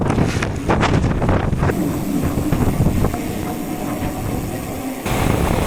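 Strong wind on a bicycle trip through Panama, at about 1283 m elevation, roars loudly and buffets the microphone in continuous gusts, with no speech heard.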